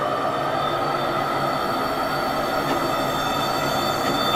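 Bakerloo Line underground train from a train simulator game rumbles steadily through a dark tunnel, with a constant loud broadband roar, a faint wheel hum and no voices.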